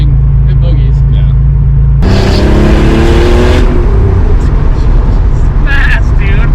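A McLaren sports car, a rare one of 350, accelerates hard with a loud, rising engine roar that sweeps upward through the gears, then drops back to a steady cabin drone while people talk inside.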